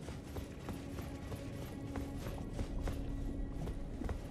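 Horse hooves in Elden Ring clop at a steady rhythm, close and moderately loud, over a constant low game ambience with a sustained tone.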